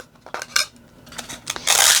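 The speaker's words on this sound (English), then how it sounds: "I have some old junky scissors that I don't care about" Old, junky scissors cutting craft material, a few sharp metallic snips and scraping blade strokes close by, building to a louder rasping cut at the end, with no talk.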